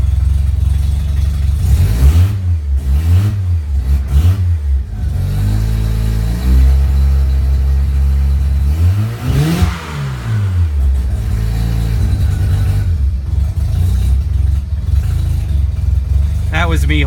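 A 10AE car engine on a chilly cold start after sitting several days, revved in repeated bursts and held near 2,000 rpm, then dropping quickly thanks to a very light flywheel; loud, close, and steady between the revs.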